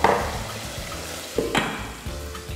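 Tomato frying in a pan for a Tunisian hsou soup: a steady soft sizzle with a couple of brief louder stirring scrapes, close by, with no talking.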